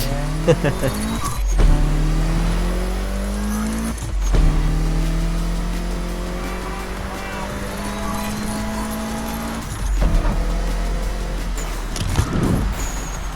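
Car engine drones steadily while driving in the racing game NFS Unbound, the tone rising and dipping with throttle changes, interrupted by a few brief shifts, with someone talking over it.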